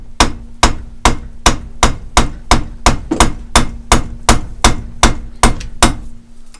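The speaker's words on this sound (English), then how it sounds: "Rubber mallet again." A rubber mallet strikes a Gravely MA210 snow thrower part in a steady series of about fifteen close, sharp blows at an even rhythm, loud and alone.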